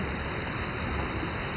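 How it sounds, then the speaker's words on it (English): Heavy rain pouring during a thunderstorm in Kavos, a steady dense hiss of large raindrops with no breaks, loud and continuous. "It's dead heavy, the raindrops massive."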